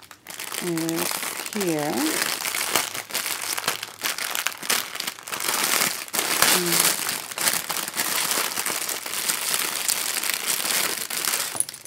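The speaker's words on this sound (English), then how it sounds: "Sorry for all the crinkling." Plastic packaging crinkles and rustles almost continuously as a swap parcel of craft items is unpacked, close to the microphone, with a voice briefly speaking over the noise.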